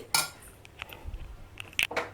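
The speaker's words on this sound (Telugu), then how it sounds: "ఒక్క నిమిషం మూత పెడదామండి" Metal clinks and clatters a few times as a lid is set onto a pot of ridge gourd curry, a couple of sharp rattles close by.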